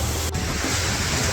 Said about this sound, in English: we're looking at the waterfall. Nice and windy and wet.